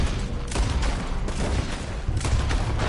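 Gunfire aimed at a trailer of dynamite in Red Dead Redemption 2, with several loud, close shots and booming bursts spaced irregularly over a constant low rumble.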